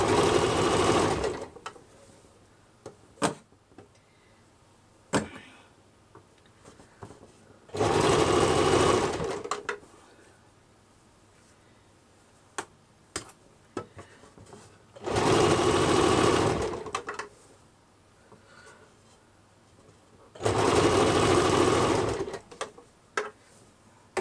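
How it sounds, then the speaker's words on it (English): Sewing machine stitching a doll dress neck piece about an inch long, running in four steady whirring bursts of a few seconds each, separated by quieter pauses with faint clicks and handling noises. "So I'm sewing it about 1 inch to give the doll like a neck piece."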